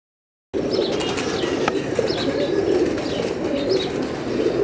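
A pigeon held and shown by a handler, with soft cooing and occasional chirps from birds nearby, brief wing flutters and handling rustle over a steady background murmur.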